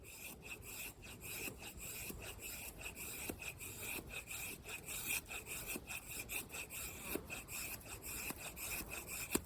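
A Lionsteel B41 knife with a convex edge carves fine shavings and curls from green wood, giving a steady close scraping rasp with repeated short strokes throughout.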